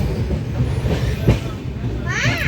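A passenger train slows into a station platform, with steady low rumble and wheel noise, a brief louder knock midway and a rising squeal toward the end, while voices talk faintly underneath.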